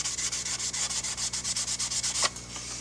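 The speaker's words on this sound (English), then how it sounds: "I'll lightly polish the plastic here." Rag loaded with dried Brasso metal polish rubbed over a plastic jet aircraft model, a close, quick series of rhythmic scrubbing strokes, about a dozen passes ending in one harder swipe, with no talk.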